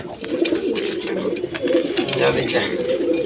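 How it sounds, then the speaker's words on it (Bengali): Rasgolla satin pigeons, a male and female pair, coo steadily with low rolling murmurs, while loft bustle and a faint background voice run underneath. "রাসগোল্লা কবুতর দেখেন পিছনেরটা মাদি সামনেরটা নর"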